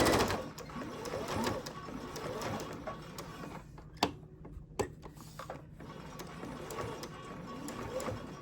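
A sewing machine stitches binding onto a quilt with a fast, steady mechanical whir. A few sharp clicks and brief pauses break the run partway through, and the motor is close and moderately loud, with no talk over it.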